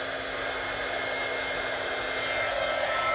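A crafting heat tool blows steadily while heating embossing powder on a card held in tweezers, a loud, even hairdryer-like roar lasting the whole stretch with no speech.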